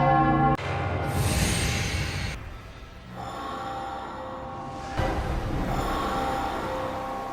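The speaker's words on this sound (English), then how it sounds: "The church bells." Bells ring in resonant tolls, with sustained humming tones that swell and fade in separate sections, the sound lying under breathy noise.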